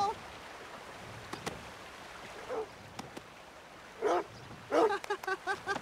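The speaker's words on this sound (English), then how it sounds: "I got your dog, mister." A dog barking in Red Dead Redemption 2, a few short yips and barks that come clustered toward the end over quiet outdoor ambience, with occasional speech.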